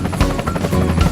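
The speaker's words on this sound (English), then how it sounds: "I see a helicopter." A helicopter's rotor thumps and engine drone loudly and close, a dense pulsing whir that fills the short stretch without pause.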